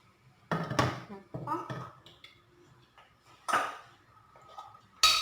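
A cooking pot of white sauce is handled and moved, giving a few sharp metallic clanks and knocks spaced apart, with a voice speaking quietly between them.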